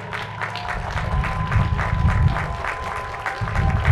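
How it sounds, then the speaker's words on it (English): A commencement crowd at Delaware State University applauds the faculty, a sustained wash of many hands clapping that fills the space evenly for the full few seconds. "please give them your sincere appreciation and a round of applause for preparing you to get here today"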